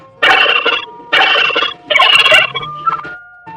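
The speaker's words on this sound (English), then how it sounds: "Turkey." Domestic turkey gobbling, three loud rattling gobble bursts close by, followed by a few softer clucks and trailing calls, no voices.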